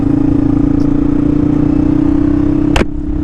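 A 1993 Yamaha XT225 motorcycle with a 223cc single-cylinder engine idles loud and close, a steady thumping drone with one sharp click near the end.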